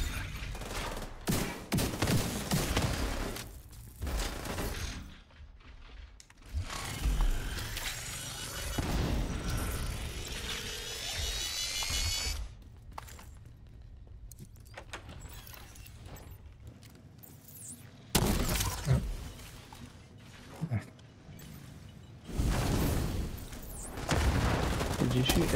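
Video game gunfire in a firefight, with loud bursts of shots and booms clustered at the start and again after the midpoint, separated by quieter stretches, and voices talking in between.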